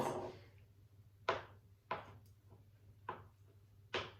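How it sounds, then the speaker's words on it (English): A knife chops 50 grams of butter into small pieces on a board, giving five distinct, evenly spaced thuds up close with quiet pauses between. "you're then going to chop your 50 grams of butter into small pieces"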